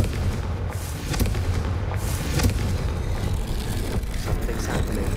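A Confringo fire spell exploding in the Hogwarts Legacy video game on PS5, a dense rumbling burst of booms and crackling blasts sustained loudly across the whole stretch.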